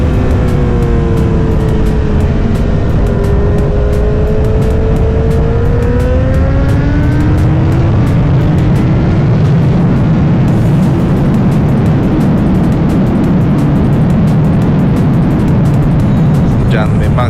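MotoGP racing motorcycles, among them a Jet 900, scream past at high speed on a track, their engine pitch sweeping down as they go by, loud and continuous throughout.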